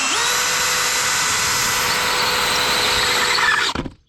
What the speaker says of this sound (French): Je viens mettre ma vis et j'ai plus qu'à visser.